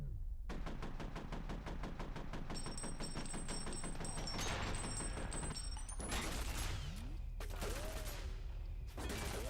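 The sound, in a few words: gunfire in the video game F.E.A.R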